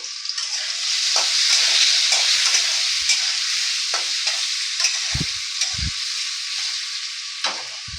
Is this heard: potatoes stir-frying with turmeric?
yes